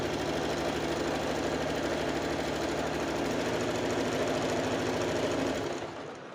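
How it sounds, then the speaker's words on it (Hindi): A sewing machine runs continuously, stitching the side seam of an A-line kurti with a fast, even mechanical chatter and hum, close and loud throughout, then slowing and stopping at the very end. "अब ये स्टिचिंग पूरी हम नीचे के कॉर्नर तक, जहाँ पे हमने राउंड शेप घुमाया था कुर्ती में, वहाँ तक हम करेंगे।"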